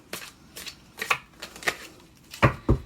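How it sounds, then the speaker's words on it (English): A tarot deck is shuffled by hand in short crisp bursts of riffling, about six quick flurries separated by brief pauses, close and clear with no talk. "I shuffle the cards."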